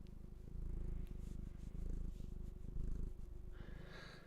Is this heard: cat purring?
yes